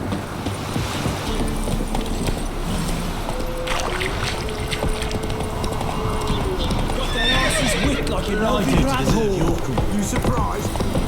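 Roach the horse in The Witcher 3 Wild Hunt, steady hoof clip-clops followed by a clear neigh, with wind and ambient game sound underneath.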